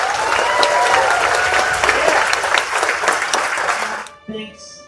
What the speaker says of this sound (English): Ladies and gentlemen, give a round of applause once again.